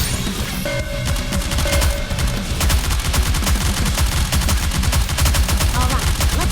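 Ship guns blast in a rapid, sustained barrage during a battle in NIKKE: Goddess of Victory, loud overlapping shots hammering continuously after a brief lead-in.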